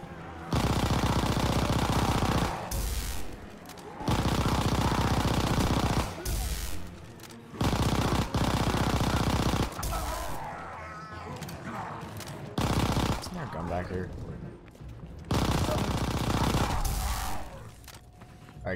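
Rapid automatic gunfire from Call of Duty: WWII Nazi Zombies mode, shooting down zombies in loud sustained bursts separated by short pauses, with game effects filling the gaps.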